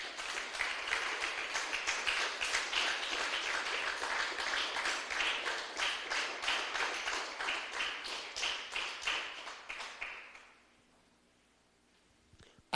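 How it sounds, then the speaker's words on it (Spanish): Congregation in a church service applauding loudly and steadily for about ten seconds, a dense wash of hand claps that fades out abruptly near the end into quiet room tone. "Denle un aplauso fuerte al Señor,"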